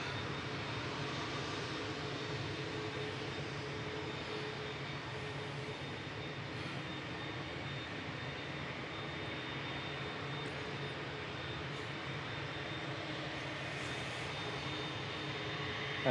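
Lufthansa jet aircraft at Manchester Airport, a low, steady engine rumble sustained throughout, fairly faint and distant with no talk over it.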